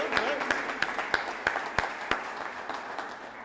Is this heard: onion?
no